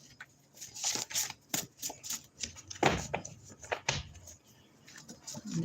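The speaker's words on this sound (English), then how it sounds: "I'm going to do 3 more shuffles" Deck of playing cards being shuffled by hand during a live stream, a run of quick riffling bursts and soft slaps repeating every second or so, fairly close, with no talking over it.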